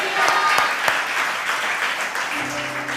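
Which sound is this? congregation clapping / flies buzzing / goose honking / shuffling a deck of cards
congregation clapping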